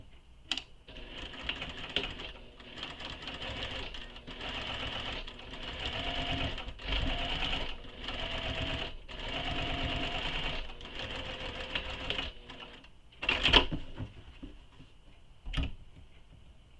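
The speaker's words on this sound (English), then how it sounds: "using your favorite top stitch length, stitch on both sides of the seams" Top stitching along both sides of a seam on a shoulder bag, the sewing machine whirs in repeated close bursts separated by brief stops, with a couple of sharp clicks near the end and no voices.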